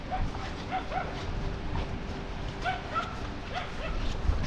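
A dog barks and yips several times at a distance, in short separate bursts over a steady outdoor background.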